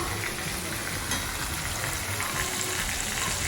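Thread chicken pieces, four at a time, frying in hot oil over steady heat, giving a loud, continuous, dense sizzle that holds evenly throughout without talk.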